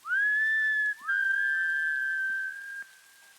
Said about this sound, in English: I hear a two-tone whistle from far away.